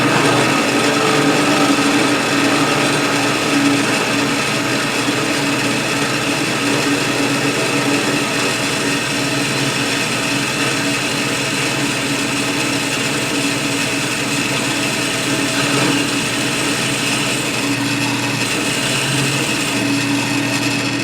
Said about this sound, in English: I'm going to drill through 3/16 of an inch